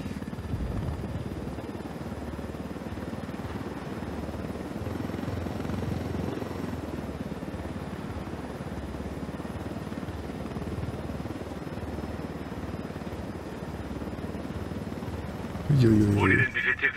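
A helicopter in the video game Ghost Recon Wildlands flies low through a canyon, its steady rotor roar filling the scene from start to finish, with a brief electronic alert near the end.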